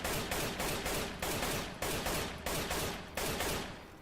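Rapid single-tap gunshots from a rifle in the video game CS:GO, six or seven loud, evenly spaced cracks, each trailing off briefly before the next, with no voices.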